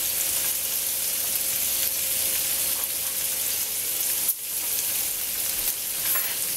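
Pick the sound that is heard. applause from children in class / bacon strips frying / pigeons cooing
bacon strips frying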